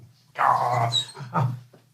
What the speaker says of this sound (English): That's your dog going insane.